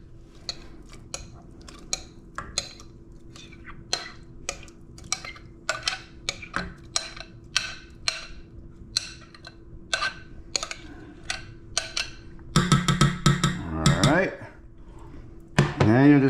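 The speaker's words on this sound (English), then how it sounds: "And you'll just continue to mix this until it's all dissolved." A utensil stirring orange gelatin mixture in a pot on low heat, giving a run of light rhythmic clinks and scrapes, with a louder burst of scraping and clatter near the end.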